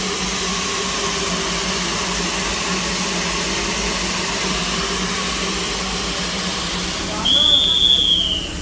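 Darjeeling toy train standing at Darjeeling station before departure: a continuous low engine rumble and steam-like hiss fill the platform, with a brief high whistle-like tone near the end, while voices murmur throughout.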